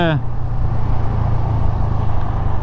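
A Bajaj Freedom 125 motorcycle being ridden, its engine giving a steady, close, low-pitched drone with road and wind rumble throughout.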